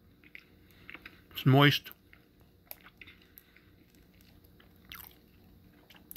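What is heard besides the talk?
biting and chewing a Reese's peanut butter cupcake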